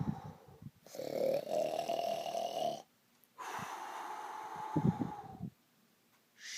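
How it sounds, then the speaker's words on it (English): A sleeper snores in two long, rasping breaths separated by short quiet gaps, close and fairly loud. "I cannot sleep because of my friend Shadow Freddy just kept snoring."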